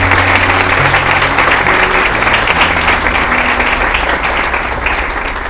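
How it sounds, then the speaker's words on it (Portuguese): Church congregation applauding loudly and steadily, a dense, sustained roar of clapping with a low musical tone humming underneath throughout. "Você pode aplaudir Jesus?"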